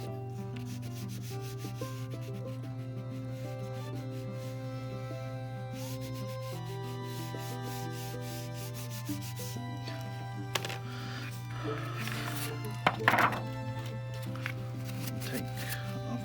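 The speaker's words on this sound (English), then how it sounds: "Take a finger, rub it, rub that in, make sure it's nice and gray." A finger rubbing gray and white chalk pastel into paper for an apple drawing makes a faint, steady soft scuffing under a low constant background hum, with a few louder brushes and taps near the end.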